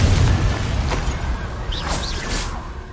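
A Confringo blasting spell explodes in the Hogwarts Legacy video game during a fight with an Ashwinder: a dense, continuous rumbling boom with whooshing bursts, loud and close throughout.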